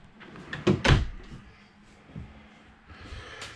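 A few short wooden knocks and thuds of drawers being pulled open and pushed shut in a travel trailer, close by with a quiet room in between.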